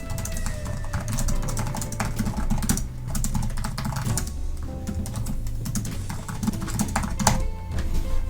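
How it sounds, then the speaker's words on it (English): Rapid, steady keystrokes clatter on a netbook keyboard up close, dense and continuous for several seconds with brief pauses and no speech. "Let's see how good this keyboard is."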